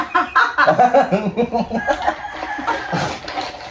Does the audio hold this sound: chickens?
yes